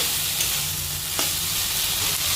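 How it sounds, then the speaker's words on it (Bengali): Winter vegetables and spices sautéing in a pan for moong dal give a loud, close, continuous sizzle, with a brief scrape of stirring partway through and no voices. "দেখো মশলাটা কিন্তু ভালো মতো কষানো হয়ে গেছে সবজির সাথে"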